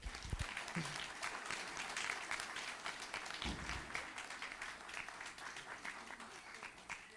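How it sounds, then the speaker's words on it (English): Steady applause from a crowd at the Chinmaya Bharat Utsav 2024 fills the whole stretch, a dense patter of many hands clapping at moderate volume. "can we get another round of applause?"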